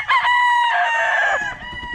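A young rooster, about seven months old, crows once loudly and close, a strained rising-then-held call that breaks off into a few rough clucky notes at the end.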